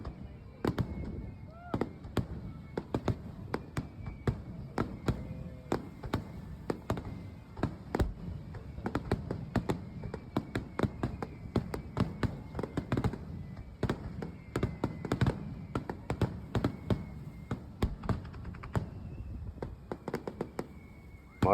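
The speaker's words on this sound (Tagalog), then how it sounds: "Tara, ato nang sugdan ang fireworks display." A fireworks display in Japan sends out a long, dense run of sharp crackling bangs and pops, irregular but nearly continuous, with occasional whistling streaks and faint voices in the background.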